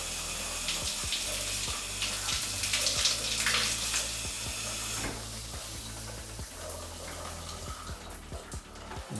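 Steady running water pours into a bathtub in a master en-suite during a home inspection drainage check, a continuous broad splashing rush with small clunks and knocks on top, no talking.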